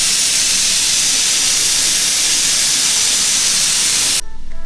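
Steam hisses steadily and loudly from a pressure cooker being vented after cooking a south Indian beef curry, a continuous broadband rush that cuts off abruptly near the end.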